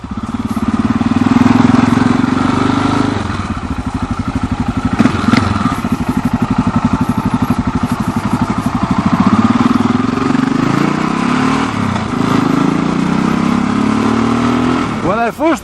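Yamaha XT 660 Z single-cylinder motorcycle engine thumping at low revs, a steady loud throb that swells and eases during slow maneuvering, with a voice talking over it.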